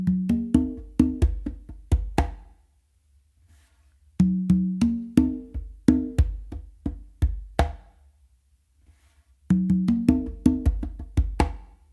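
Congas carry a full funk a caballo fusion pattern, played as a close, crisp solo: three phrases of rapid open tones and slaps rolling in bursts, each ending in sharper accents, with short silent gaps between them.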